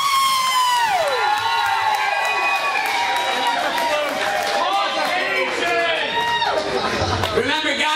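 A wrestling crowd cheers loudly and continuously, with high whoops and shrieking voices layered over a dense roar.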